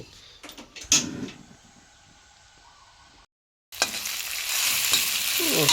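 Pork stomach stir-fried with holy basil, chili and garlic: a few clanks and a faint background hiss give way, after a brief silent cut, to a loud, rising sizzle of food hitting a hot pan.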